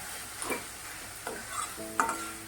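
Sprouted green moong being sautéed with onion-garlic masala, a quiet low sizzle with a few distinct spoon scrapes and stirring knocks against the pan, no speech.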